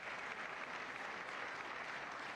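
Steady, dense applause filling a legislative chamber during a State of the Union address, heard from a distance as a continuous wash of clapping with no pauses.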